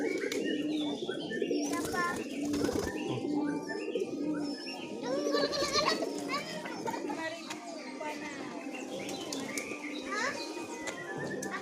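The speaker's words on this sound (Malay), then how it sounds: "kasih makan merpati" Pigeons coo softly and continuously as they are fed at a busy outdoor flock site in Jantho, Aceh Besar, with wingbeats and chatter from playing children mixed in.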